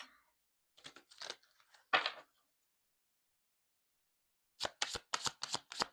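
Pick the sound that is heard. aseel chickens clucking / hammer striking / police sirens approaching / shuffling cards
shuffling cards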